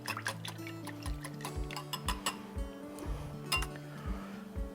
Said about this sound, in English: So we want to mix the wet ingredients first.